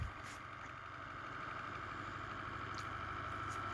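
A 3D printed horizontal beast magnet motor spins steadily on a test run, giving a continuous whirring drone with a high steady tone that builds slightly as it speeds up, fairly faint and alone.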